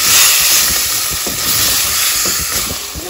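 Ground masala paste going into a hot pan for a spicy mutton dish, giving a steady, loud, close hissing sizzle that fills the clip with faint scattered crackles underneath.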